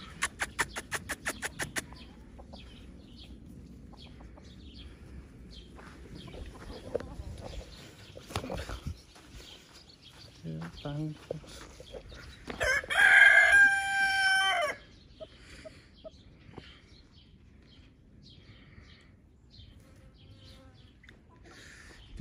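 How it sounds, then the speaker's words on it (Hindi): An American-breed rooster in a village crows once, loud and close, a harsh drawn-out call over a quiet outdoor background with buzzing insects and a few scattered faint knocks and clucks. "ये हमने ये अमेरिका वाला मुर्गी है दोस्तों"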